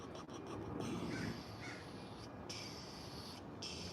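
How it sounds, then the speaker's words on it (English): Crows cawing outdoors on a hot day, a few harsh calls rising over steady broadband background noise, moderately distant and fairly faint, with no speech. "All the birds just flying around."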